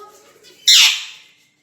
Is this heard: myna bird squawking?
yes